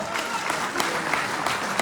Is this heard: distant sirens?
no